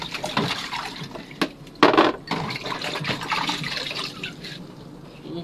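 Dishes being washed at a kitchen sink under running water, with splashing, rinsing and occasional clinks of plates and utensils, close and steady, with a louder splash burst partway through.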